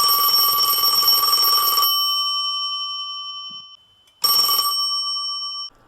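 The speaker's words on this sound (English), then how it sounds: "stopped when the phone rang" An old-style telephone bell rings loudly and close, two bursts of shrill metallic ringing separated by a pause of silence, with a faint ringing tail fading out after the first burst.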